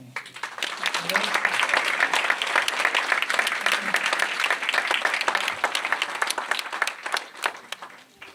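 Sustained audience applause at a mayor's New Year address in Grignols, a hall full of steady clapping that rises quickly, holds for several seconds and tapers off, with faint voices beneath.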